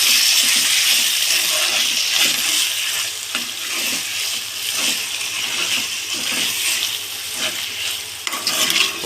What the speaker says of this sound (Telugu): ఒక నిమిషం పాటు ఫ్రెండ్స్ అలా కలుపుకుంటూ మొత్తం నీట్గా